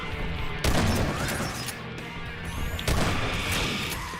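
Two loud, close shotgun blasts aimed at an explosive barrel in Half-Life 2: Episode Two, each a sharp crashing boom with a rumbling tail, about two seconds apart, over a constant roar of background noise.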